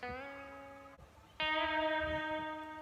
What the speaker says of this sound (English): So these are just the pitch bended guitars.